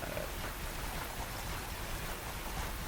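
Steady rain hisses over a video game battlefield of marching troops, a dense, even wash of falling water with no pauses or voices.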